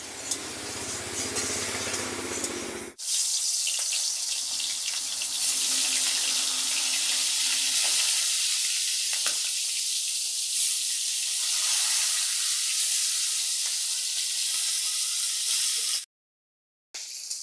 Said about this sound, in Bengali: এবার আমার তেল গরম হয়ে গেছে, এবার আমি মাছগুলো ছেড়ে দেবো।